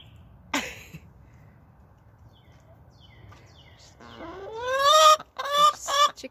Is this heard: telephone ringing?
no